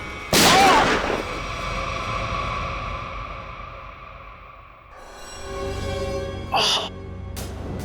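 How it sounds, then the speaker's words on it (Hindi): A gunshot fired at a lion in a TV crime drama cracks out sharply and loudly with a fading reverberant tail; a second sharp shot follows several seconds later over a low tense background. "मेरे से घबराहट में गोली चल गई"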